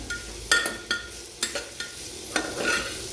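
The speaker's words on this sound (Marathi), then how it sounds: "यातच मी घालून घेणार आहे किसलेले गाजर. ते छान असं" Grated carrot with cashews being sautéed in oil in a pan, a spatula scraping and stirring in several distinct strokes over a soft, steady sizzle, close and with no talking.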